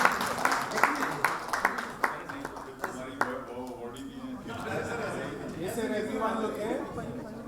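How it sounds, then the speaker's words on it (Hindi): At a Hindi literary festival, an audience claps to welcome guests onto the stage, with rhythmic, fairly close claps for a few seconds that give way to murmuring chatter and talk. "कृपया तालियों के साथ उनका मंच पर स्वागत करें"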